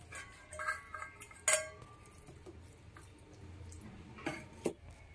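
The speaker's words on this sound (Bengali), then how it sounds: "জল ছেঁকে ছেঁকে চিকেনটা তুলে দিলাম" Drained chicken pieces dropped into a kadai, a few clinking metallic knocks and soft wet thuds at scattered moments, fairly quiet and close with no talking.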